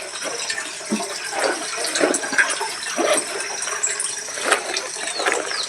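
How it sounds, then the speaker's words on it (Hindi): Continuous rushing water, a steady broadband gush that swells and dips slightly, heard outdoors with no one speaking. "इधर आ रहा पानी"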